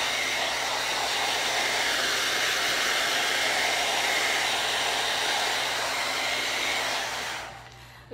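A hair dryer blows over wet paint on a watermelon painting. It gives a steady, fairly loud whirring rush that runs unchanged for several seconds, then powers down and cuts off near the end.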